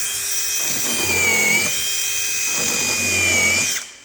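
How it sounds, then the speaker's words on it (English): An impact driver drives screws while fitting drawer guides, whining steadily at high pitch with rattling hammering underneath, in two surges of driving, close and loud, before cutting off. "By leaving the trigger squeezed on the impact driver while I do this"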